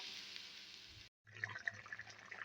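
Water poured into a cooking pan while a silver carp curry is being made, a soft steady trickle that cuts off, then brief splashes and sizzling bubbles follow, quiet and close.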